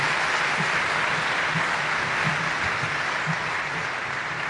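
An audience at an official event applauds the First Lady of the Republic with steady, dense clapping that fills the room evenly and continues throughout.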